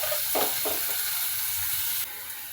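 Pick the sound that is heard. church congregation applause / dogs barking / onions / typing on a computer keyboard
onions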